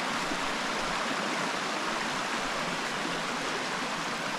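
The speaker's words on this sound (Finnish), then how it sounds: "nyt me ollaan täällä joen varrella" A river rushing along its bank in Urho Kekkonen National Park in early summer, a loud, dense, unbroken roar of water heard close by with no voices.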